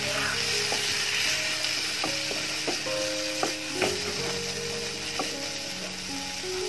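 Chopped tomato frying in a pan of chicken curry gravy, a steady soft sizzle with scattered scraping stir clinks from a spoon against the pan, close and alone.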